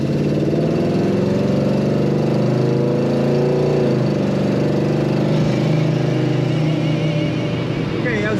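A 1970 Chevrolet Chevelle engine drones loudly and close, its steady rumble shifting in pitch as it accelerates, with no quiet gaps.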